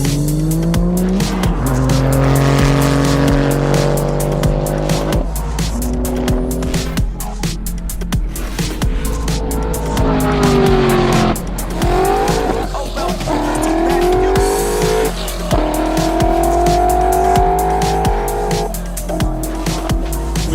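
Race cars make timed 1,000-metre passes at the Racewars event, their loud engines roaring continuously and rising and falling in pitch through the gears, with tyre squeal and skidding mixed in.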